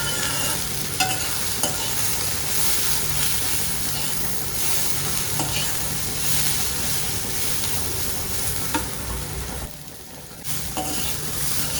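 Lentils sizzle and crackle steadily in a hot pan while a spatula stirs and scrapes through them, the frying noise loud and continuous with a brief dip near the end.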